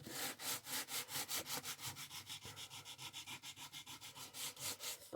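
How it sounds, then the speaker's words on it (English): Rhythmic back-and-forth rubbing of sandpaper on paper, about five strokes a second, close and fairly quiet, with no talking. "I'm just going to sand it back a bit"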